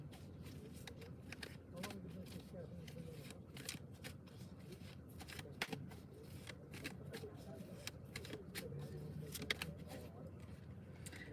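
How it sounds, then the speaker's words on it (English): Oracle cards being shuffled by hand in a riffling, papery flutter that continues steadily, close and fairly quiet. "Let's get you a card, Unbothered."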